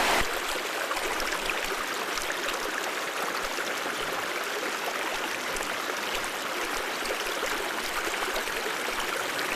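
A creek in Kananaskis rushes steadily and close by, a dense continuous wash of flowing water that holds an even level from start to finish with no voices over it.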